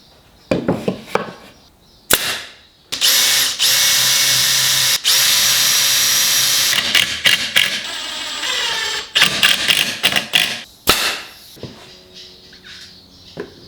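A power drill drives screws into kitchen toe-kick boards in a tiny house build, with several short whirring bursts, one long sustained run, then more quick bursts and a few clicks and knocks, loud and close.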